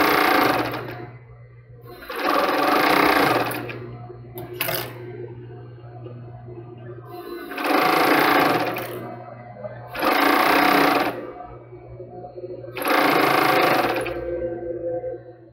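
Sewing machine stitching lace and fabric on a double-strap thong, with four or five loud bursts of rapid stitching separated by short pauses and a steady low motor hum running throughout.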